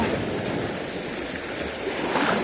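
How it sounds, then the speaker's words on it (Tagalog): Strong ocean waves rush and roar continuously on a rocky fishing shore, with wind buffeting the microphone throughout. "medyo malakas yung alon mga bali"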